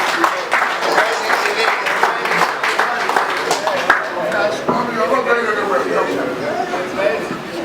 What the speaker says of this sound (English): Please, another round of applause for Mommy Marion.